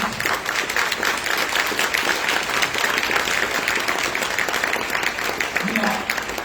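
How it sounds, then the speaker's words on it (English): Audience at an Urban League of Northwest Indiana awards luncheon applauding staff and volunteers, a steady, dense wash of clapping sustained throughout without pause. "Would you all give a round of applause for my Urban League staff and volunteers?"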